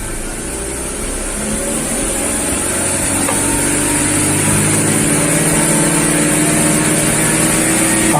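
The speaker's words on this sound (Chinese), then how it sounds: "那我们看这个萤幕来踩油门。" A BMW E46 with the M43TU four-cylinder engine is revved to about 3500 rpm, its steady nearby drone rising slightly and holding loud and even, with no talk.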